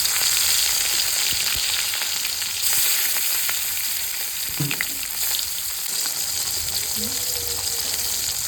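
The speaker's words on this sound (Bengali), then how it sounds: "তেল গরম হয়ে গেছে আমার মাছটা দিয়ে দিচ্ছি" Rohu fish pieces coated in salt and turmeric fry in hot oil, a loud continuous sizzle and crackle that holds steady with small pops and faint clatter.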